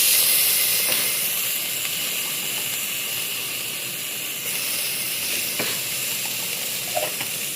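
Ginger garlic paste frying with browned onions in a pan for chicken gravy, a loud, steady hiss of sizzling that runs unbroken, with a few faint clinks near the end.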